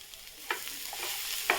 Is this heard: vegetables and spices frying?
yes